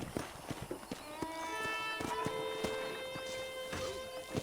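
Horse hooves clip-clop in the video game Red Dead Redemption, a steady rhythmic walking beat close by, layered with a sustained tonal musical or ambient background.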